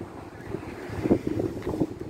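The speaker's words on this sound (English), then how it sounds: "It is super windy here" Gusty wind buffets the microphone outdoors, a low rumbling roar that swells and surges in bursts with no talking.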